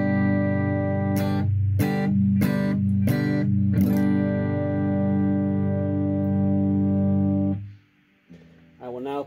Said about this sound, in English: this is my amp sound, my AC30 with no effects on, no reverb